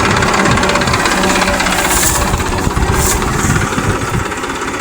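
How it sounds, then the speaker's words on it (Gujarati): A tractor engine runs close by in a field on groundnut harvest day, a loud, continuous, rough mechanical rumble with a steady vibrating chug throughout. "જો અહીં છે ને ટ્રેક્ટર હાલે છે"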